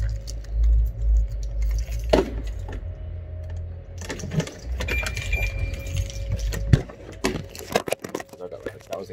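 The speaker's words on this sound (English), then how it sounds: "And keys on my key ring" A large bunch of keys on a key ring jangles and clinks in irregular bursts while someone talks close by, with some handling noise.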